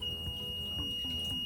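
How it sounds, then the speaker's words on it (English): Buzzers wired in a series circuit and powered by a battery pack give a steady, thin electronic tone that holds at low volume for the whole moment, with faint background noise underneath. "and we'll listen to the buzzers."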